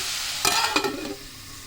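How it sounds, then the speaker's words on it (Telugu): Cabbage curry cooking in a pan, with two short scraping stirs over a steady, close sizzle and no talking. "క్యాబేజీ కొంచెం మగ్గిందండి. ఇది ఇంకొంచెం మగ్గాలి."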